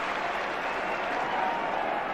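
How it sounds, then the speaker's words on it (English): Football crowd on the Kop at Anfield applauding Gary Gillespie during a 1986/87 First Division Liverpool–Everton match, a steady, dense wash of distant clapping from a large stand with no break. "The applause on the Kop is for Gary Gillespie"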